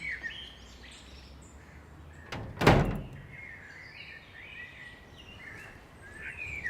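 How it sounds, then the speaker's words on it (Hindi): A door opens in a quiet room with a single thud partway through, while faint bird chirps continue in the background; nobody speaks. "खुला दरवाजा"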